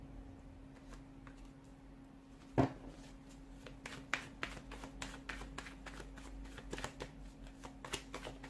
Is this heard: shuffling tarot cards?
yes